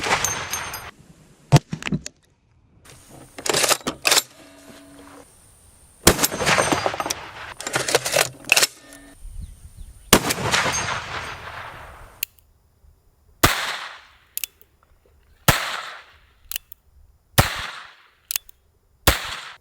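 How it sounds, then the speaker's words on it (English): A .22 short gun fires in bursts of sharp, crisp reports, some rapid strings and some single shots separated by silence, loud and close. "Firing."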